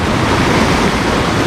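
Waves wash back on a beach shoreline at sunrise in Central America, a continuous loud rushing of surf and backwash close by, with no voices.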